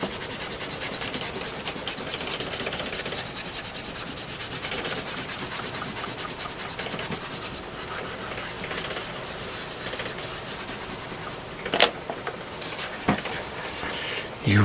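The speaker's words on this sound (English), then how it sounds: "we get my good friend eraser here, and we're going to erase all the extra lines" An eraser scrubs back and forth over inked comic drawing paper, a dense, continuous close rubbing with a few sharper scuffs near the end, heard alone.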